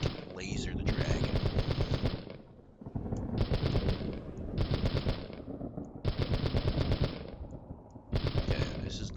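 LMG machine gun fire aimed at a dragon in the video game CastleMiner Z: loud, rapid automatic bursts, several long volleys separated by brief pauses, filling the whole stretch.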